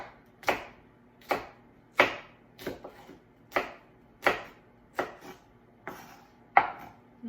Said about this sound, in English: so I will cut the zucchini in three.